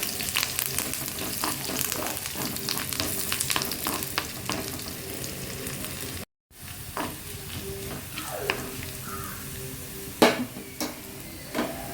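Tempering poured onto browned onions for a Palakkad-style tapioca (kappa) dish, a loud, sustained frying sizzle with spoon scrapes and pan clatter, briefly cut off midway before the sizzling resumes.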